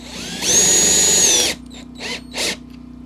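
A small chainsaw whines loudly at a high pitch for about a second, then drops away, followed by two shorter revving bursts.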